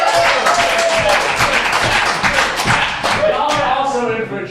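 Applause from a live audience at an improv comedy show, dense and sustained clapping that keeps going at steady loudness and eases off slightly at the end.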